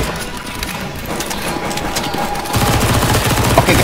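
Rapid automatic gunfire in a Counter-Strike: Global Offensive zombie-escape match, with dense, continuous bursts of shots that grow heavier and louder toward the end.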